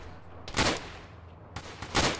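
Two short bursts of 7.62 rifle fire in the tactical military game Arma, rapid cracking shots about a second apart, loud and close against a quiet background.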